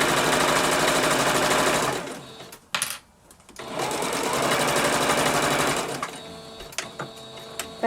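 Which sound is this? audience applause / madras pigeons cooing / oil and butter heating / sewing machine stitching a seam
sewing machine stitching a seam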